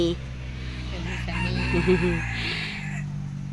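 A hen clucks and calls in a short burst of fowl vocalizing at moderate distance, with faint voices and background farmyard noise beneath.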